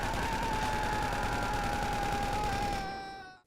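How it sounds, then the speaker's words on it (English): Rapid, continuous gunfire from a one-handed weapon fired while falling off a building in GTA V, a loud buzzing stream of shots that cuts off as the gun empties after about three seconds. "When you fall off a building with a one-handed weapon, you can freely fire that weapon until your gun is empty"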